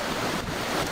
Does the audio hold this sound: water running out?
yes